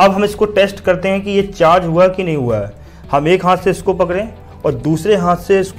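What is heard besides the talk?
No everyday noises stand out.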